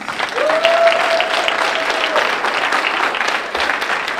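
A breakfast-meeting audience claps their hands together, a steady wash of applause continuing throughout with a brief whistle near the start.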